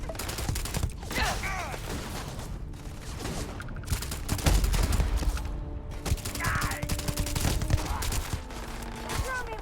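A freezing gun fires in the sci-fi shooter Starfield, with bursts of crackling shots and mechanical clatter amid a busy, layered mix of game effects and occasional voices.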